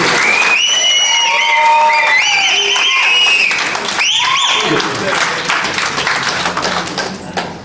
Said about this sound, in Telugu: చప్పట్లు కొట్టండి, చప్పట్లు కొట్టాలి